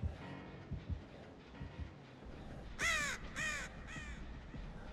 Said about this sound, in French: traître de corbeau